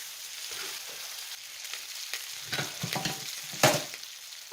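Cooked spaghetti stirred into sizzling spicy sausage in a pan on lowered heat, with a steady close frying hiss broken by scraping stirs and a sharp clatter near the end.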